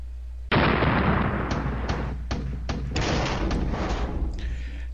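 A tank war video game erupts as T-72 and Challenger tanks trade cannon fire: a sudden heavy blast, then a string of booming shots and rumbling explosions, loud and close.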